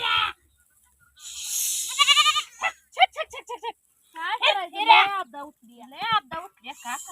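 Goats bleat repeatedly up close, wavering cries overlapping one another, with some hissy noise near the start.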